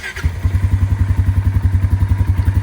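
A Polaris Sportsman 570 ATV engine cranks and catches, settling into a steady, close, rhythmic low thumping idle with even pulses that carry on alone without talk.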